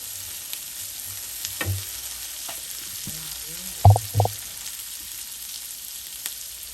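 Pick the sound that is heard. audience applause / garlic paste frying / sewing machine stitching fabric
garlic paste frying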